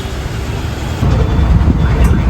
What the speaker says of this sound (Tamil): இப்போ நம்ம ஈவினிங் டைம் வரதுனால கொஞ்சம் டிராஃபிக்காக இருக்குங்க.